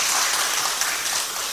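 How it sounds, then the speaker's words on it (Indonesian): An audience at a regency head's speech launching the Gerbang Segoro program claps together in a dense, steady burst of applause that fades slightly over a second and a half. "Tepuk tangan untuk kita semuanya."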